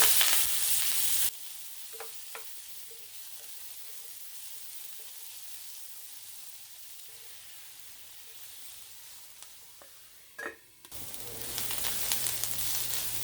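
Ground onion and a sprig of curry leaves sauté in oil, giving a soft, continuous sizzle with a few scattered stirring clicks, framed by louder hissing at the start and end.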